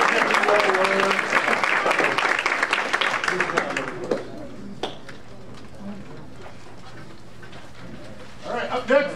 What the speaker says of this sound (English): we'll just clap for all of them